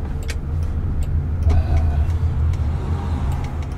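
A city bus rumbles past very close to a driverless Waymo car, its heavy low engine drone swelling steadily over the traffic noise. A brief hiss like an air brake sounds near the middle of the pass.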